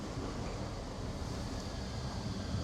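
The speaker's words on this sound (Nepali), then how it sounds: "हावा चलेको हेर्नु यस्तो हावा चल्लाको छ" Steady wind blows outdoors near trees, a continuous broadband rushing roar that fills the whole moment without pause, buffeting the microphone with no voices present.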